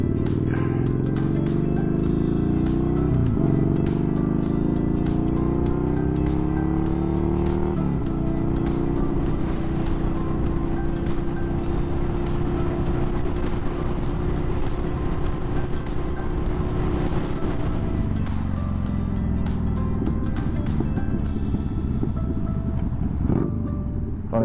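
A Yamaha Bolt bobber motorcycle is ridden, its engine droning steadily and loudly throughout, with gear changes and rising and falling revs and a constant rush of wind, and no talking.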